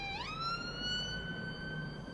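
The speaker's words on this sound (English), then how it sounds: "it's all kicking off here, ambulances and everything." An ambulance siren wails in road traffic, rising quickly and then holding a steady tone at moderate distance over low vehicle rumble.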